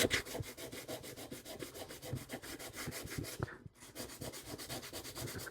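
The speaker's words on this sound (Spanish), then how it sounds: "Vamos a ir pasando una lijita" Sandpaper is worked back and forth by hand over a 1995 Orvis Trident carbon fiber fishing rod, giving quick rhythmic rasping strokes that are close but quiet, with a short pause midway.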